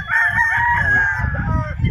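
A three-time-winning gamecock rooster gives one long, loud crow close by, with a steady low rumble of background noise underneath.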